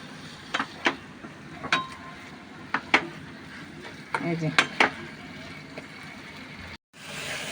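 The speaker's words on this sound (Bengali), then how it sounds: "এখন আমি ভালো করে আস্তে আস্তে নাড়তে থাকবো কিছুক্ষণ" Grated carrots and condensed milk for carrot sandesh being stirred in a pan, with sparse spoon scrapes and clinks against the metal over a faint low sizzle, quiet and close, ending in a brief gap.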